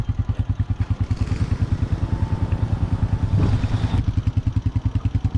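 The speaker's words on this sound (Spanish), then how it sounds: "La moto está caminando sola porque el 1 está muy fuerte." A motorcycle sits in first gear with the engine idling, a steady fast low thumping pulse throughout, close and even, with a brief clatter near the middle.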